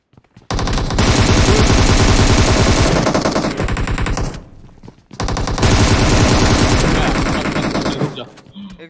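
Automatic gunfire rattles in a shooter video game. Two long, loud, sustained bursts are split by a brief pause, and the second trails off near the end.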